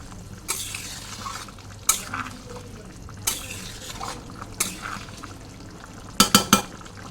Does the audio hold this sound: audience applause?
no